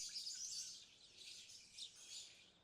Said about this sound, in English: hear the birds in the morning, hear the birds now.